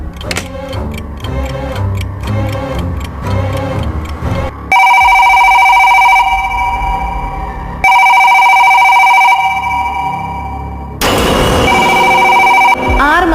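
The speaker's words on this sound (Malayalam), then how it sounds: "മാസമായി കേടാണെന്ന് ഹൗസ് ഓണർ പറഞ്ഞ ഫോൺ എങ്ങനെയാണ് അടിക്കുന്നതെന്ന് എനിക്ക് മനസ്സിലായില്ല" An old telephone that was said to have been out of order for months rings in bursts as a sound effect in a spoken horror story, with loud repeated ring tones and short pauses between them after an earlier stretch of ticking.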